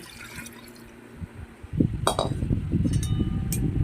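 Boiled water is poured into a pot of cooking lentil dal, a sloshing, bubbling splash that starts abruptly and carries on steadily with small clinks against the vessel, close and fairly loud.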